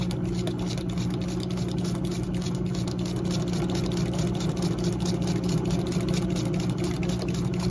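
A sewing machine stitches a line in fabric with a steady, continuous mechanical hum and rapid fine ticking, running close and unbroken throughout.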